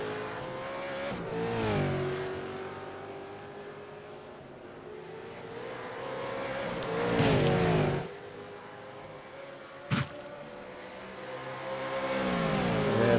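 V8 race cars slipstream down the Mulsanne Straight, engines roaring loudly as several cars sweep past in close succession, pitch falling with each pass, with a brief sharp burst midway.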